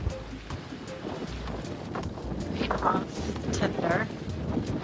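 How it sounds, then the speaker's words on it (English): Strong wind gusting by the sea at Rangiroa, buffeting the microphone with a continuous rushing roar and faint surf beneath, while a person talks over it. "Oh my goodness, it's windy"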